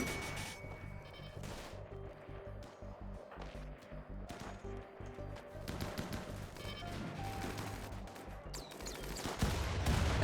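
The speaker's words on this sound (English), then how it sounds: "somebody definitely used the Doomsday rocket launcher" Rocket explosions and heavy gunfire in a Rimworld battle against mechanoids, a rapid series of sharp bursts and booms that swell louder toward the end, with no talking.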